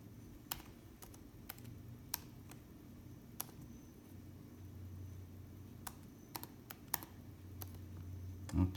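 Computer keyboard keys are tapped in scattered, irregular clicks while a password is entered, each keystroke a sharp, close tick over a low, steady room hum.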